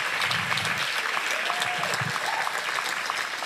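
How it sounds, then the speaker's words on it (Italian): A theatre audience gives sustained applause for a stage company's set design, steady dense clapping throughout with a few brief voices mixed in. "ma va fatto un grandissimo applauso a Biagio Fiorino per tutta la scenografia"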